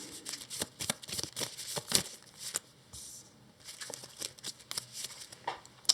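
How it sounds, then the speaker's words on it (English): A deck of cards for a solo tabletop board game is shuffled close up, with quick riffling bursts and soft slaps coming in uneven rhythm, fairly quiet with no talk. "We shuffle these."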